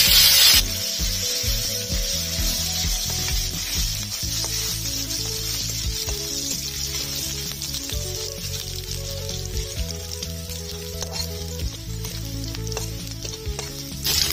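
Black cumin, crushed garlic and green chilli fry in hot oil with a steady, close sizzle. A utensil stirs and scrapes through them in repeated strokes.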